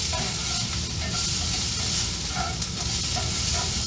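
Vegetables with onions and garlic sizzling and being stirred in a cast iron skillet, a continuous close frying hiss with scraping and clinking of the utensil against the pan, no talking.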